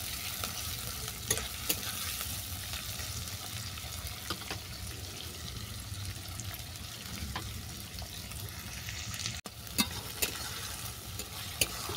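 Onions fry gently in a pan, giving a quiet, steady sizzle broken by occasional soft clicks and scrapes from stirring.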